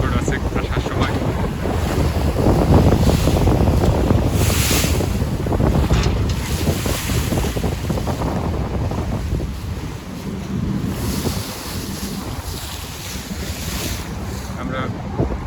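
Loud wind roars steadily across the microphone on a boat ride at Lecco, Italy. Rushing water and a low engine drone carry on underneath without a break.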